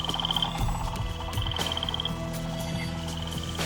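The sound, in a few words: frogs croaking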